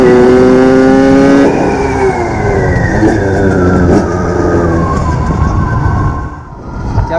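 A Derbi moped fitted with a vintage Metrakit exhaust pulls hard in second gear, its engine note climbing steadily in pitch, loud and close, with a sharp whining rasp that rises and holds before easing near the end.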